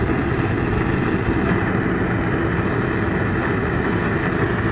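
Gas weed burner firing a raku kiln at a furnace, turned up: a loud, steady, close roar with deep rumbling, continuous without pauses or voices.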